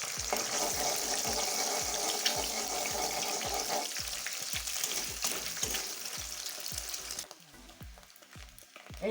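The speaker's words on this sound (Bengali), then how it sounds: "ডিমটা একটু ভুজি বানিয়ে দিলেই ভালো হয়" Three eggs fry in a pan for homemade veg and egg chowmein, a soft steady sizzle under a fast run of regular scraping knocks from stirring, close by, the stirring stopping near the end as the sizzle continues quietly.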